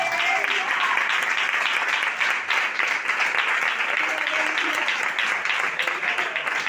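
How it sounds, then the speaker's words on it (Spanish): A church congregation applauds in a steady, dense wave of clapping at a worship service, sustained and loud throughout with no pause. "Dale un aplauso al Señor."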